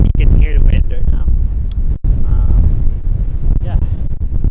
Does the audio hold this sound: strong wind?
yes